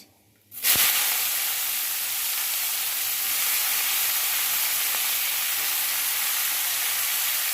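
Onion and green chilli hit hot oil in a pan with a sudden burst, then a loud, steady sizzle holds close and unbroken to the end.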